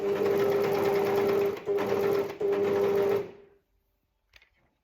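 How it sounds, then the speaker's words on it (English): An overlocker runs a gathering stitch on fabric for a cuff frill, a loud steady mechanical whir in three bursts with brief pauses, then stopping and falling silent. "I'm just going to run it through my overlocker on a gathering stitch"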